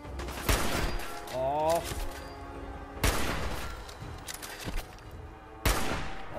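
Gunfire in the video game Fallout 4: three sharp, loud broadband shots spaced a few seconds apart, with a voice talking and exclaiming over the game sounds.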